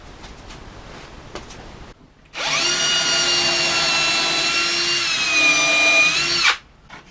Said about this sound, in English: drill down from the top with a small pilot hole